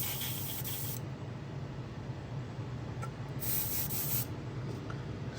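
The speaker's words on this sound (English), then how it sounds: "shoot a coat of UVLS gloss over this. So let me get that done and I'll be right back to spray it" Spray gun laying a wet coat of UVLS gloss over a fishing lure, a steady close hiss running throughout with brighter surges near the start and again around the fourth second.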